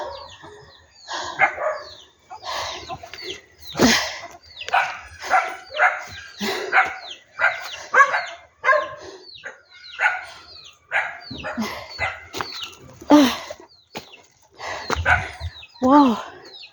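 Dogs bark repeatedly in short, loud bursts at a hillside home off the road after a hurricane in Jamaica, with chickens clucking and a rooster crowing among them and voices in the background.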